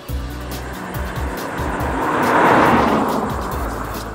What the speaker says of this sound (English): Under the hood, your BMW is powered by a 3-liter inline 6